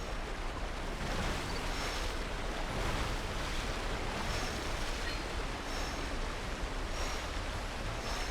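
A waterfall on a river in the video game New Pokemon Snap roars as a dense, steady rush of water, loud and unbroken, with no voices.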